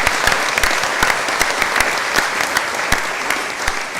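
An audience at a climate action conference applauds the town council, producing sustained, loud, close clapping from a crowd with individual sharp claps popping out of the dense wash.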